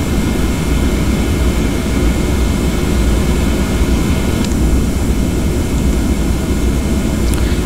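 The twin jet engines of a Qantas Boeing 717-200 in the Prepar3D flight simulator hold a steady, loud, broadband whine and rumble while taxiing, with a couple of faint clicks.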